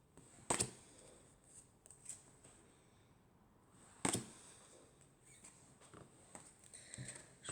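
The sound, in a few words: handling and shuffling playing cards with silver edges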